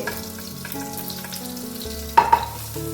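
Chopped onion softening in hot oil in a pan for a chicken and vegetable spaghetti, giving a steady close sizzle with the scrape of stirring and two sharper clinks near the end.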